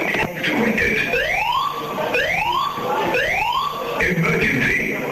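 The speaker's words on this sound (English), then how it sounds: "And this is our fire alarm system." A building fire alarm system sounds during a test, giving loud, repeated rising siren whoops in steady cycles with electronic tones behind them.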